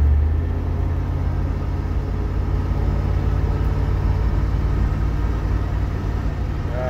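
A car with a 318 V8 and Holley four-barrel carburetor pulls up a small hill, its engine giving a steady low rumble heard from inside, with no voices.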